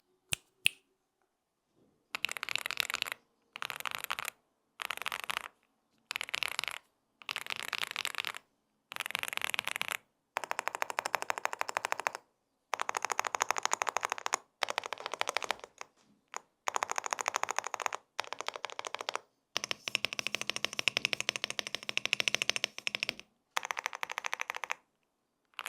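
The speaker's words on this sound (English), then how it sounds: "I also went and mounted non-silent linear switches just to see how it would sound." An Epomaker TH108 full-size keyboard fitted with non-silent linear switches is typed on in repeated bursts of rapid, crisp clacks, close and clear, separated by short silent pauses.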